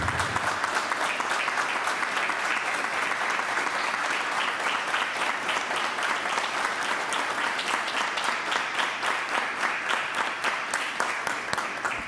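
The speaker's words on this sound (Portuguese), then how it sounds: "eu vou pedir uma salva de palmas em homenagem aos dois, ao Cabo Odilon e ao Richard Drago." Sustained applause from an audience fills a municipal council session, a dense, even clapping that continues for several seconds.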